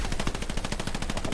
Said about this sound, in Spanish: Joder, tío, la puta MG donde dispara.